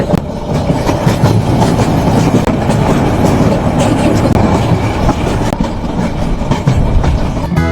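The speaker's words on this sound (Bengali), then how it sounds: "এটি হচ্ছে সৈকত এক্সপ্রেস ট্রেন" The Saikat Express passenger train runs on the Chattogram–Cox's Bazar line, giving a loud, continuous rumble with rhythmic clickety-clack of wheels over rail joints, heard close by throughout.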